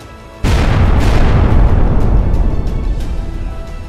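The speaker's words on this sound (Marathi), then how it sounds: "दिल्लीतील लाल किल्ला परिसरात आल्यानंतर अवघ्या 30 मिनिटांनी कारचा भीषण स्फोट झाला" A car explodes near the Red Fort in Delhi in the evening: a sudden loud boom after a short quiet stretch, followed by a rumbling roar that slowly fades.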